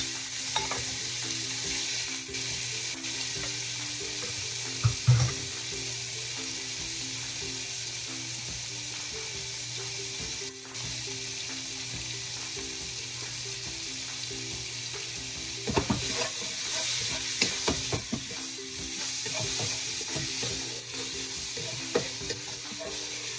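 Shrimp sizzle in hot oil for Chinese fried rice while being stirred, with a steady close frying hiss and occasional scraping utensil strokes and clatters in the pan.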